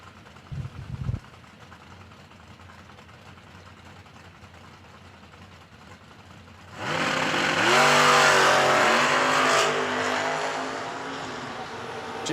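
At a drag strip race, a 2006 Chevrolet Colorado and a Pennsylvania-based 1967 Camaro launch after a quiet wait. Engines burst into a loud roar that climbs through rising revs and holds at full power, close by.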